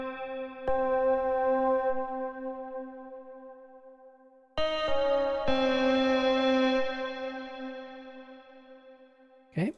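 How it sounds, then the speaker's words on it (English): Synthesizer melody from an electronic music track, sustained harmonic notes with effects processing, a long held tone, then a new phrase entering around midway, played alone without talk. "But here's the melody sound."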